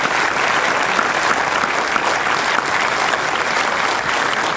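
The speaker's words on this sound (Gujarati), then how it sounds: "આપણે એકવાર જોરદાર તાળીઓથી એમને વધાવી લઈએ." An audience at the Zaverchand Meghani and Hemu Gadhavi award ceremony claps loudly and steadily, dense hall applause holding at an even level throughout with no break or voices on top.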